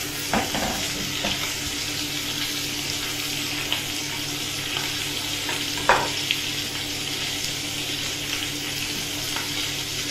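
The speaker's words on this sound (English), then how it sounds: "starting to sizzle, starting to cook, you'll hear it going on to the side of you" Pork and bacon frying in a pan, giving a steady close hiss and crackle throughout with a few sharper pops and faint clinks.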